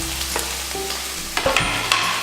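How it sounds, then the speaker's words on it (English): Mongolian beef with ginger and rum stir-fries in a pan, a loud close sizzle punctuated by several scraping and tapping strokes of a stirring utensil. "Give it a nice stir."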